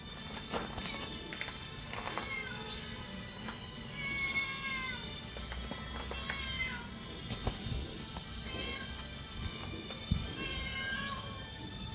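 A cat meows repeatedly in rising and falling cries, fairly close, over a busy background of household noise.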